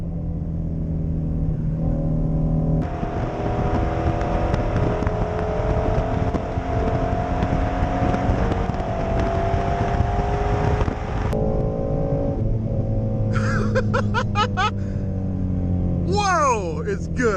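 A Shelby GT350 Mustang, which has an 8,200 RPM redline, is driven and revved hard. The engine's pitch climbs steadily in a loud, rising wail, drops back, then climbs again with sharp shifts near the end. The engine drowns out any other sound.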